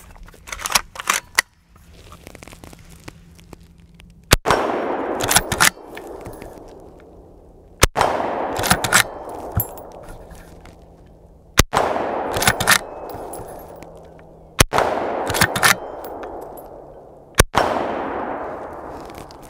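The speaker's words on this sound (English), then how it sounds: "let's do some shooting at 50 yards" Henry Long Ranger rifle in .223/5.56 fired at a steel plate 50 yards away: five or six sharp, loud cracks spaced a few seconds apart, each followed by a ringing metallic clang and a fading echo.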